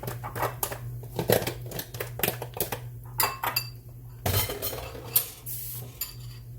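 Corn pone batter is whipped in a bowl, heard as rapid, uneven clinks and scrapes of a utensil against the bowl in quick bursts, close and moderately loud, with a short pause midway.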